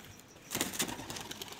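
Racing pigeons are released at a tournament, and a short burst of close wing flapping rises from quiet, fading over a second or so.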